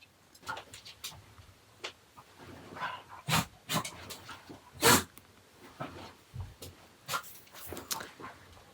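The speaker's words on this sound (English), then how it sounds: "my dog is like going crazy and making ugly noises" An agitated dog lets out a series of scattered yelps, huffs and whimpering bursts, a few sharper and louder than the rest, close by with no talking.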